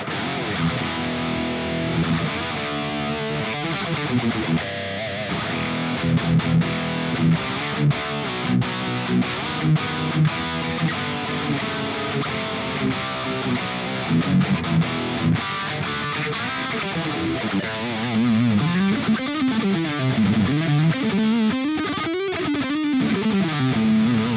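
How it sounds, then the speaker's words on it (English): Heavily distorted electric guitar through a TONEX capture of an EVH 5153 Stealth amp with a Direwolf pedal plays chugging riffs and sliding lead lines for a long stretch, loud and dense, with no talking. "This is a capture made of this EVH-5153 Stealth with a direwolf pedal"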